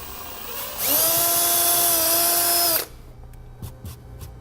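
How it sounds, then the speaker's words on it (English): A power drill bores a hole for a battery disconnect switch in a 2015 Chevrolet, a loud steady high whine lasting about two seconds, close up, followed by a few faint clicks and knocks. "I'm going to drill a hole to the size specified in the instructions."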